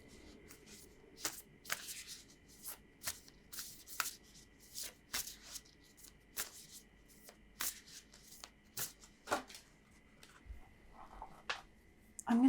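Tarot and oracle cards are shuffled by hand close to the microphone, a series of crisp riffling and tapping bursts at an uneven rhythm against a quiet room.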